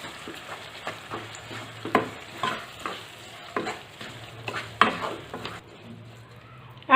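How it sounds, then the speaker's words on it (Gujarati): Soaked samo (barnyard millet) being stirred in hot ghee in a pan for sama khichdi, with repeated scraping strokes of a spoon over a soft, steady sizzle, close and fairly loud, with no talking. "પછી આપણે જે પલાળેલો સામો છે તે ઉમેરી દઈશું. અને બધું સરસ મિક્સ કરી લેવું."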